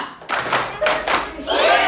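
Two hand claps from a children's clapping game, crisp slaps close by, one after the other, with a voice talking around them.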